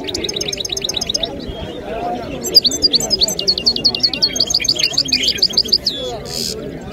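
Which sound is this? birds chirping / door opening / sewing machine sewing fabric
birds chirping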